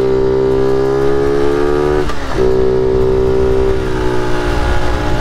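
A 1978 Honda Z50 Monkey minibike with a small 50cc engine and 3-speed gearbox runs at a loud, steady buzzing idle, dipping briefly as the revs change before holding steady again.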